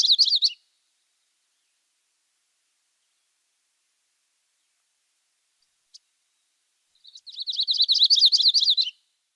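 Yellow-rumped warbler song: the tail of one high twittering trill, a long silence with a faint tick, then another full rapid trill, close and clear.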